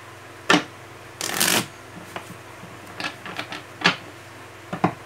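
Tarot cards being shuffled before a reading: a quick riffle and a longer dense burst of card flutter, then several short separate card snaps and slides, close and fairly soft, with no talk.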